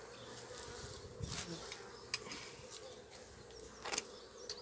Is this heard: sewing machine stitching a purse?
no